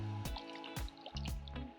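Water sloshing inside a mature coconut shaken by hand while shopping, giving several short liquid splashes in a steady rhythm, close and fairly loud.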